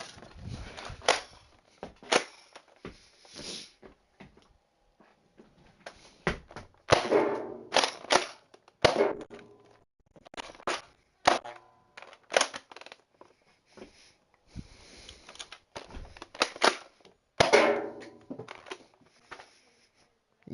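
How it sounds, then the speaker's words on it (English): Nerf guns fired in a triple salute, a series of sharp, dry plastic clacks and pops in uneven bursts, close by, with short quiet gaps between shots. "We're gonna do the triple Nerf gun salute."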